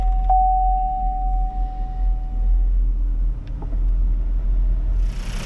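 A 2018 GMC Terrain engine idles just after start-up, a steady low close rumble with a short chime tone at the start and a brief rise of hiss at the end.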